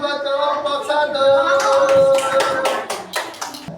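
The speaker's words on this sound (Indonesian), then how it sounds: "Tepuk tangan buat kelompok 1" Children in a classroom clap for the first project group. Sharp, close hand claps start about halfway through and follow voices and humming, loud and uneven.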